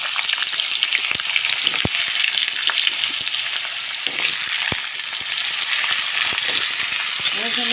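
Steady loud sizzling of potatoes frying in hot oil, with occasional clinks and scrapes of stirring.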